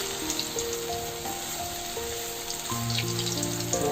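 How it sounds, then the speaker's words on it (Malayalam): Masala-coated cauliflower for chilli gobi frying in very hot oil gives a steady crackling sizzle with scattered pops, joined by tonal clatter or music-like tones; no one speaks. "മസാല പുരട്ടി വെച്ചിരിക്കുന്ന ചില്ലി ഫ്ലവർ ഇട്ടിരിക്കുകയാണ്. എണ്ണ ഭയങ്കര ചൂടായ കാരണം പെട്ടെന്ന്"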